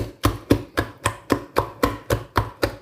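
Millet porridge mixture for Hausa koko being beaten by hand in a steady rhythm of about ten sharp, evenly spaced slaps, close and clear with no talking.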